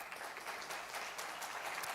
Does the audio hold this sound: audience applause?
yes